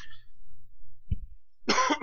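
A single person coughs once, fairly close and sharp, in a quiet room. A short vocal sound comes just before the cough and a burst of throat noise follows it.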